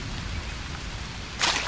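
Rain falling in the survival video game Green Hell, a steady, dense hiss of downpour throughout, with a brief louder splash near the end.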